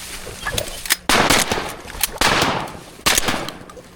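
Three loud, booming shotgun blasts at a duck over water at roughly one-second intervals, each trailing off in a long echo outdoors in Oregon.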